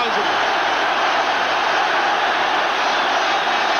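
A big stadium crowd of over 50,000 at an Ajax versus Celtic football match roars in a dense, continuous wash of cheering, with a commentator's voice underneath.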